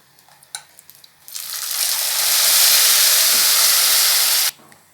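Bottle gourd kootu poured into a hot tempering of garlic, curry leaves and dried red chilies sets off a loud, steady hiss and sizzle for about three seconds, preceded by a few light clinks, then cuts off abruptly.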